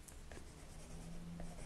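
Colour pencils scratching across sketchbook paper in quick, soft strokes, a close, light, continuous rasp with no talk.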